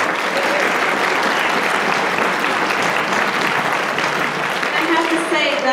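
Concert audience at a community orchestra winter concert applauds after a solo, with sustained, even clapping from a large crowd throughout, close and steady with no pause.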